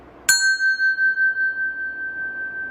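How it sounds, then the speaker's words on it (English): A bell is struck once with a mallet, giving a sharp attack and then a clear, sustained ringing tone that pulses slowly as it fades, heard alone and close. "in this case, the bell is stable and I hit it with the Storge"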